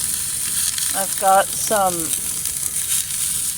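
Oyster mushrooms, green pepper and onion sizzling in a small frying pan, a steady bright hiss running throughout beneath a short burst of talk.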